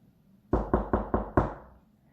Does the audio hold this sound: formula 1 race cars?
no